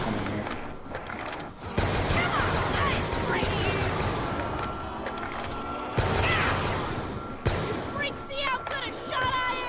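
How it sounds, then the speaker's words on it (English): Bursts of rapid gunfire from wall-bought weapons blasting zombies in Black Ops 2 Zombies on the Buried map, loud and dense with sharp repeated shots, and a player talks over the shooting. "we're gonna shoot the crap out of these guys when they come in here"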